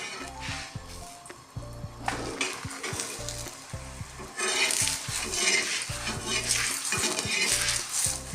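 Aloo paratha frying in ghee on a pan, a steady close sizzle with scraping and clinking of a utensil against the pan, growing louder and denser in the second half.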